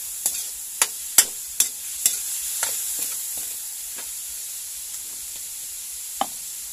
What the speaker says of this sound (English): Igisa lang natin yung ating pork